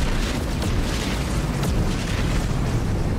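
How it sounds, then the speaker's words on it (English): No Man's Sky video game explosions rumble as a dense, continuous booming roar, loud and steady throughout with no clear gaps. "It always sounds like there's explosions going on when those guys come in."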